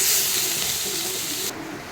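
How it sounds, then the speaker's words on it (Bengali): Tomato curry stirred in a kadai gives a bright, steady hiss and sizzle that eases slightly and then drops off sharply near the end of the short stretch. "দিয়ে আবার একটু ভালো করে আমরা নাড়াবো তরকারিটাকে"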